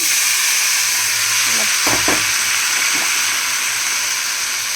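Steady close sizzling of banana peel frying in a pan, a continuous bright hiss with a few brief clatters of stirring.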